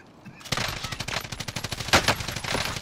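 Rapid automatic gunfire from Call of Duty: Modern Warfare rattles out in loud, close bursts for a few seconds, with one sharper peak near the end and no talking.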